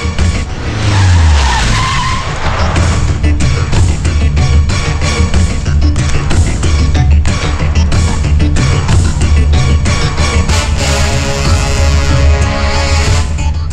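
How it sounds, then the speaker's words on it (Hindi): A car brakes hard and skids to a stop with a long tire squeal and engine roar. The sound is loud and dense, blended into a busy film soundtrack, and no voices are heard. "गाड़ी रोक रे।"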